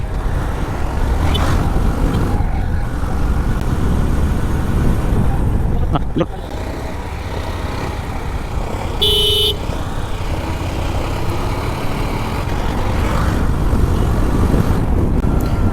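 A Discover 125cc motorcycle rides along a road in Bangladesh under the midday sun. A constant engine and traffic drone carries on throughout, with one short horn toot partway through, and a person talks over it.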